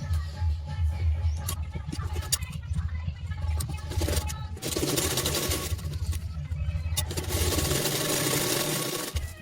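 A sewing machine stitches a princess-cut blouse, its steady low motor hum running almost the whole way with a few brief pauses and bursts of higher rattling as the fabric feeds through.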